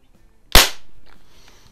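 A Daisy 88 air gun fires a single sharp, close crack with a short fading tail, alone with no talking.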